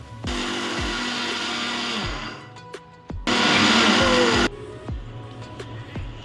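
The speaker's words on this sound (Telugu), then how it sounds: "మిక్సీ పట్టుకోవాలి." A mixie grinder whirs through a roasted mixture in two loud motor bursts, the first nearly two seconds and the second about a second, with a short pause between and a low hum as it winds down.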